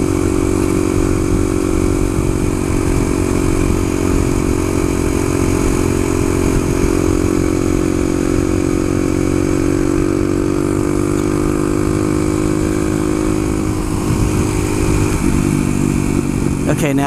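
A Suzuki DR-200 single-cylinder motorcycle engine runs steadily and loud throughout, its throbbing drone shifting in pitch slightly as speed changes, with wind noise and a voice talking over it.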